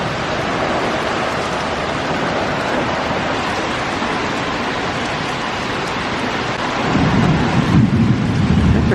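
Summer rainstorm with rolling thunder, a broad continuous rumble and hiss of rain that swells louder near the end.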